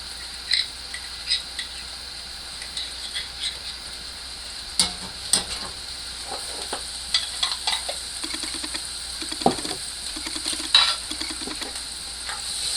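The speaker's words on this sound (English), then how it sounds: "In the same pan, add a tablespoon of butter," Butter melts and sizzles in a frying pan just used for pork chops, a steady bright hiss with occasional faint stirring taps and clinks close by.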